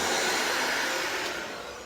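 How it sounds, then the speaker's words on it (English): A heat gun blows a steady, loud rush of hot air onto a car bumper during painting, a broadband whoosh that holds constant and eases slightly toward the end, with no talking. "I have a heat gun."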